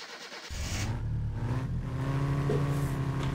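An old lady's car engine in My Summer Car turns over and catches abruptly, then settles into a loud, steady idle with a rough, low mechanical rumble.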